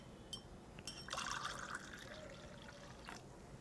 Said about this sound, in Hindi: और इसमें डालेंगे हम पानी